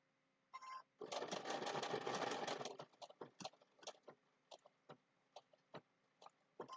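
Sewing machine running a straight stitch along the edge of an appliqué eye on a pumpkin snack mat, one steady whirring burst of about two seconds followed by short stop-start bursts and clicks, close and fairly quiet.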